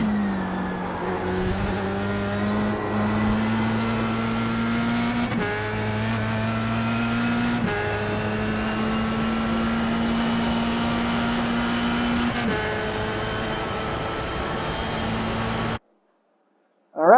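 A formula race car in the iRacing sim laps the Road Atlanta short circuit at full speed, its engine howling steadily at high pitch with several abrupt gear-shift drops and climbs. It runs loud and continuous, then cuts to silence near the end.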